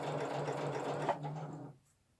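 Brother sewing machine stitching a camo pouch, a close, fast steady mechanical whirr that runs for about two seconds and then stops.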